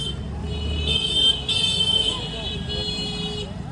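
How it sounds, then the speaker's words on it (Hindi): Street traffic rumbles past with motorbike engines and tonal horn toots, fairly close and continuous. A voice speaks briefly amid the din. "ये कितना शोर करते हैं ना बाइक से।"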